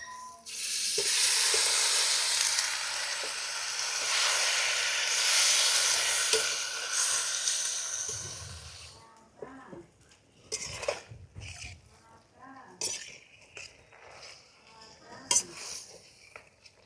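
Chicken coated with curd, ginger-garlic paste, curry leaves and coriander frying loudly in a pan outdoors in a garden at night, with steady sizzling and scraping stirs for several seconds before it settles into scattered clinks and softer stirring.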